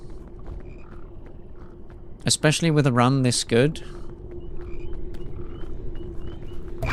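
A frog in the PEAK video game croaks in a short, loud, warbling burst lasting about a second, heard close up over a low ambient hum while someone talks.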